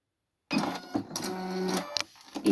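An Alfa Smart Plus sewing machine starts up after a moment of silence and stitches a securing knot, giving a close mechanical whirring and clicking with short pauses and a final burst.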